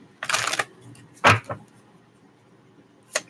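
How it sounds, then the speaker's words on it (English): Tarot cards being shuffled up close in a few short, sharp riffling bursts separated by quiet gaps. "Last shuffle."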